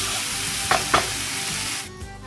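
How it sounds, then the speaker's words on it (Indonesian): Fish fillet sautéing in a hot pan, with a steady close sizzle of frying and two brief sharp clinks of stirring, then the sizzle quietens near the end. "ditumis ya."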